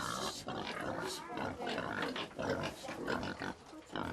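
Pigs grunting continuously in a livestock pen on the ground floor beneath a house in Guizhou, China, a dense, close, loud chorus of oinks and snorts filling the whole stretch.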